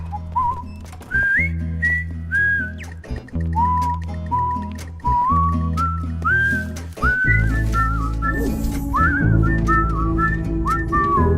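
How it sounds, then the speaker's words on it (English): The melodic whistled tune from a Telstra TV advert plays loud and clear, in short repeating phrases over a steady rhythmic backing beat. "That Telstra whistling ad was so incredibly bad."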